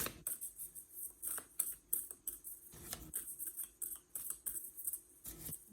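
Close, quiet riffling and slapping of tarot cards being shuffled in quick irregular bursts, with soft rubbing between strokes.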